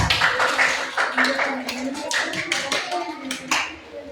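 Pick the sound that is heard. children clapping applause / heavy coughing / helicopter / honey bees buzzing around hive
children clapping applause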